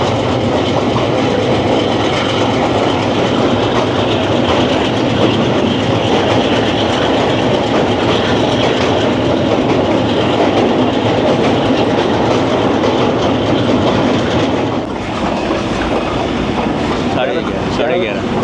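The Zikriya Express rumbles loudly and continuously across the Mehran bridge over the Indus, with steady wheel clatter and dense low-end roar throughout, easing slightly near the end.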